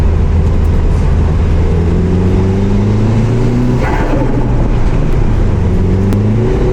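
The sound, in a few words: car driving on a test drive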